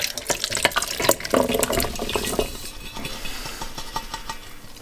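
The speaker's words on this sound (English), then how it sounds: "we'll give this pan a rinse out" Tap water running to rinse out a pan, gurgling and splashing close by, busier and louder in the first half before settling into a softer steady flow.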